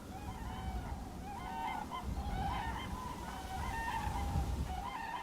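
Wild geese in a large flock honk continuously, many overlapping calls rising and falling at mid-distance, with no talking, moments before a sea eagle plunges among them.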